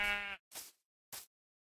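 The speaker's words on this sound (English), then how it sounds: "I also accidentally pushed a sheep into a pit" Sheep bleating in the Minecraft 1.18 video game: one drawn-out bleat followed by two shorter, breathy bleats, spaced apart and close up with silence between them.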